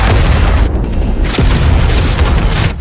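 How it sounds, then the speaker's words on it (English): An RPG strike explodes in the war film Land of Bad, a loud deep boom that swells into a sustained rumble. A second sharp blast lands midway, and a roaring, debris-filled wash carries through to the end. "The attackers get a shot off, hitting Bishop and Sugar's location"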